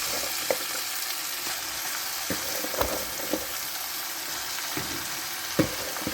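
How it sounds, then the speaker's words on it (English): Pak choi frying in a pot, a continuous hissing sizzle close by with occasional soft clicks and stirring knocks spread through. "Time to add the vegetable to the pot now."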